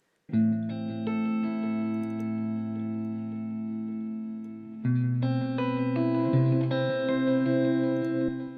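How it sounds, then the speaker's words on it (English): Sustained electric guitar chords ringing through a wide stereo delay in Logic Pro X, repeats trailing behind each strum, with a brief break midway before new chords. "I added a stereo delay, which sounds like this."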